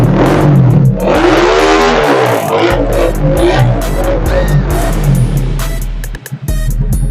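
A custom Honda TMX 150 Supremo motorcycle with a thermos pipe exhaust revs loud and close, its engine climbing and falling through several throttle blips before dropping back near the end.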